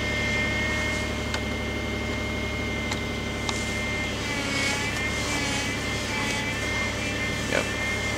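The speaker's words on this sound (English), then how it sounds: "Pretty sure that was the power steering pump making that whine noise." A car engine idling after a cold start in dangerously cold weather, a steady high whine from the power steering pump riding over a continuous drone, with a few faint clicks and no voices.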